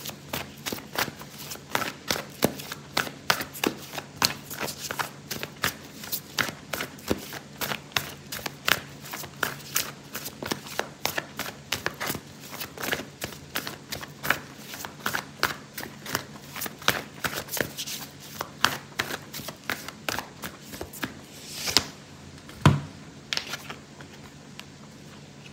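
A deck of oracle cards is shuffled by hand for a tarot reading, a long run of soft, rapid riffling and tapping close by, with a brief pause and a few louder knocks near the end.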